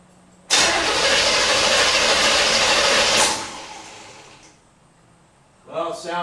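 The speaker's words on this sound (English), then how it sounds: "But we do want to crank it. Let's listen to how it sounds." A Corvette engine cranking with the distributor disconnected, a loud steady starter whir for about three seconds that winds down and fades, then a brief second burst of cranking at the end.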